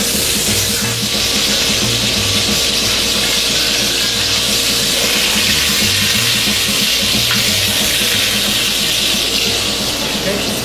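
Weathervane scallops searing in butter in a hot pan: a steady, loud, even sizzle and hiss that holds without a break throughout.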